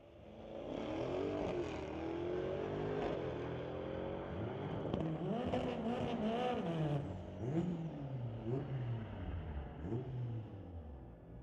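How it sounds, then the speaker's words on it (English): A Mercedes E550-engined car and a 2019 BMW E63 launch side by side on a street-legal drag strip, their engines revving up through gear changes and then fading off into the distance, fairly loud and without voices. "Bringing up Stu Kendaya, running a Mercedes E550 motor alongside Adrian Salzovic in the 2019 BMW E63"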